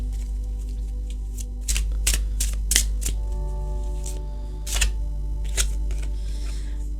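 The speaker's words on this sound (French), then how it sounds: "J'ai envie de prendre une carte du tarot aussi." A tarot deck is shuffled by hand in a quiet room, with crisp riffles and card slaps in quick irregular bursts over a low steady hum.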